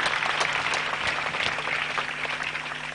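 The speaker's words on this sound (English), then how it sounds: "If you're clapping, please clap for Jesus." Congregation clapping at a church farewell service, moderate scattered applause over a faint low hum, tapering off by the end.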